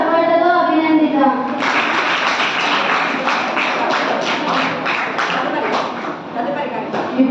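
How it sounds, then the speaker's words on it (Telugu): Audience applause at a school academic carnival event, a broad wash of many hands clapping that swells in after a spoken announcement and continues steadily, loud and close, with talk at the start. "అందుకు మనమందరం మరొకసారి గట్టిగా చప్పట్లతో అభినందిద్దాం"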